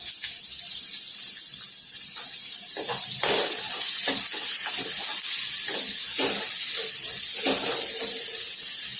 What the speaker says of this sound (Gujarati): બે મિનિટ આપણે છેકા દઈશું